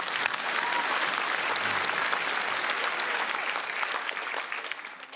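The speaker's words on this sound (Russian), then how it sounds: "Под ваши аплодисменты." An audience at a comedy club show breaks into thick, continuous applause that holds steady, then thins out slightly toward the end.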